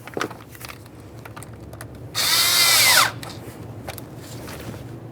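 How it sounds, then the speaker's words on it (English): A power tool tightens an 8mm-headed clamp on the fuel injector setup of a 1998-2011 Ford Ranger with a 2.3L four-cylinder engine. A loud, close whir lasts about a second, with quiet workshop background before and after. "Tighten up your 8mm headed clamp."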